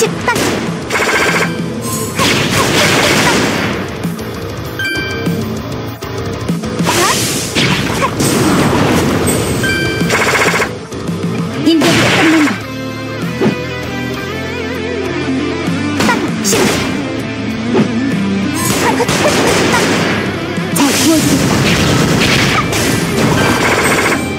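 Full-salvo weapon burst attack in Closers, a long barrage of repeated booms, crashes and rapid gunfire with heavy layered impacts, loud and continuous.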